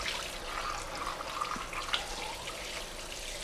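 Water runs from a kitchen tap while seeds are washed out of a green chili, a steady close splashing stream with small irregular spatters and no talking.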